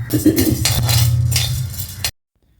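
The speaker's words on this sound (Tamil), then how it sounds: "இப்போ கடலைப்பருப்பு போடுறோம்" Chana dal tipped into a pan where urad dal is already roasting for coconut dal powder, giving a close, steady rattle and clink of dry lentils against metal for about two seconds, then silence.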